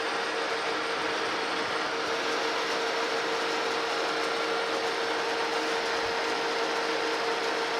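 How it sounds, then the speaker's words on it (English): Metal planer on a New Haven machine taking a coarse cut on a new shaft, a continuous loud grinding scrape with a steady tonal whine and dense mechanical noise throughout, no talking. "Taking a rather coarse cut right now, but that's fine for what we're doing."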